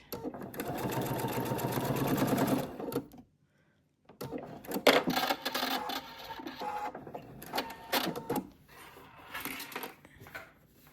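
A sewing machine stitches a curved fabric seam in steady, rapid whirring bursts: one long run, a pause of near silence, then several shorter stop-start runs with small clicks, close and fairly loud.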